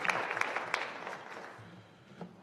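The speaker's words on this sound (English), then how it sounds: "one more round of applause" A round of applause at a high school winter sports awards ceremony, a busy patter of many hands that starts full and gradually thins and fades, with a few faint voices near the end.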